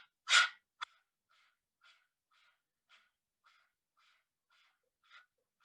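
A person imitates a dog panting with the tongue out: one loud breathy burst, then a steady train of short, soft, quick exhales at an even rhythm.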